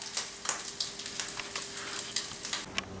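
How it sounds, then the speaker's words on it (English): Crispy rice cakes frying in oil in a covered frying pan, a close, constant sizzle with crackling pops, even and lively, no voices. "after about 60 seconds on each side in a covered frying pan, your crispy rice should be nice and golden brown"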